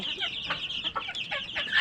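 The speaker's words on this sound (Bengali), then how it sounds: "আর এই হচ্ছে আমার ফার্মি মুরগির বাচ্চাগুলো" A quick burst of high chirping and peeping from farm broiler chicks with soft clucks, several short calls close together.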